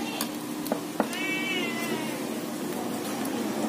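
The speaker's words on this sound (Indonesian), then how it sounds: "Jadi ada kucing, kita mau kasih makan." A cat meowing in a busy Padang-style eatery at lunchtime: one short, clear meow at moderate distance over a constant hubbub of crowd noise and clatter.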